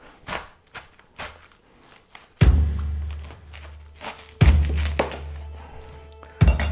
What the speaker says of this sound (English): I advise having a really sharp knife because you want to hack into this. It's quite tough, and it's much easier to deal with if you start off by halving it